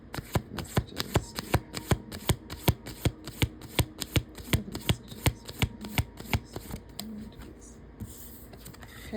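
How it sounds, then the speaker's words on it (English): Akashic Records Oracle cards are shuffled by hand in a quick, regular run of crisp slaps and riffles close up, before the sound trails off near the end. "I'm using the Akashic Records Oracle cards right now, and we're going to pull some cards."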